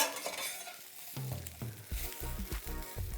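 Tempeh frying in a hot pan with chipotle, a steady sizzle broken by clattering stirs and scrapes of a utensil that quicken toward the end, close and fairly loud.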